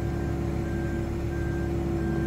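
A PC28 crane's Slew Safe warning sounds as a steady, repeating electronic beep, spaced evenly over a loud continuous engine drone.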